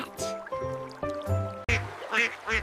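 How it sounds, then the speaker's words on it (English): A duck quacks in a quick series of nasal honks, several short calls in an uneven rhythm, loud and close with a little water-like background. "Whose sound is this? It's a duck."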